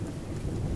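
A brief low rumble of thunder rolls through a thunderstorm in Spijkenisse, with wind and rain hiss behind it.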